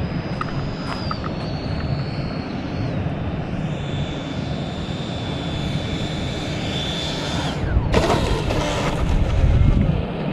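A model airplane drones steadily overhead as it comes in short toward the runway to land, its engine pitch sliding gradually lower, with a louder whooshing pass near the end against outdoor wind noise.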